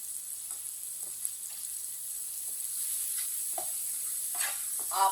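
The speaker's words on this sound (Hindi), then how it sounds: "मसालों को थोड़ा सा पका लेंगे। आधा मिनट के लिए लाजमी मसालों को पकाना, मसाले हमारे भुन जाएंगे।" Coriander powder and other ground spices sizzle and fry in oil in a pan for an aloo baingan sabzi, a steady hiss with a few soft stirring scrapes and a louder burst of sizzle near the end.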